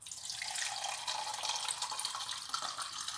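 Tap water running steadily into a cooking pot while preparing a simple lunch at home, a continuous close hissing splash with no talk and no breaks.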